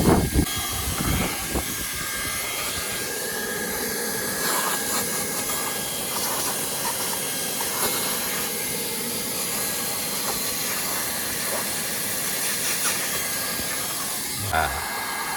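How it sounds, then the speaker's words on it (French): Hot air welder working on a reinforced PVC pool liner, a constant loud airy hiss lasting throughout with faint handling noises mixed in. "je vais aller chercher à souder le bout là-bas au bout"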